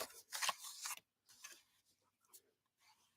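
A small paper cutter slicing card stock, a quick close scraping cut followed by a few softer sliding and clicking sounds, quiet and isolated.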